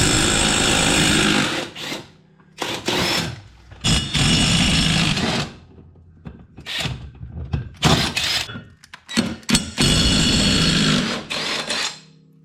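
A battery-powered Milwaukee stubby impact wrench fires in loud, close bursts of rapid hammering, several separate runs of one to two seconds split by short pauses, with no talking.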